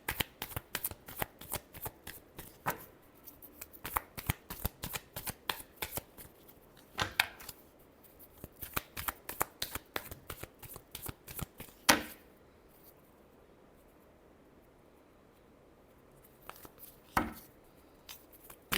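Tarot cards shuffled by hand in irregular bursts of crisp riffling and slaps, close and fairly loud, with pauses between runs and a final sharp shuffle near the end; no talking.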